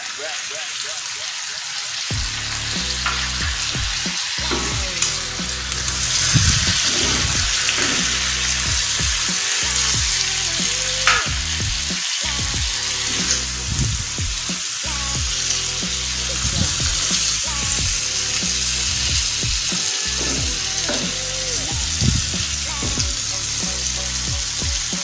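Tomatoes are added to a kaleji pota masala and sizzle in the pan. The frying keeps up a steady, close crackle for the whole stretch, with music playing underneath.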